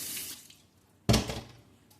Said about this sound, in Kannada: ಈಗ ನೀಟಾಗಿ ವಾಶ್ ಮಾಡ್ಕೋಬೇಕು.